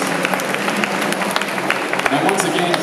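Audience clapping after an honorary award presentation to filmmaker Momoi Kaori at a Japan film festival in San Francisco, a dense, steady spread of many hands that holds at an even level throughout.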